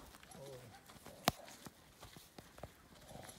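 Soft hoof clip-clops from a draft mare tap irregularly in an outdoor setting, with one sharp louder knock standing out among the quieter steps and background murmur.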